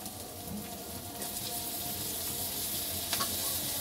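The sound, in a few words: capsicum and vegetables frying in a pan for noodles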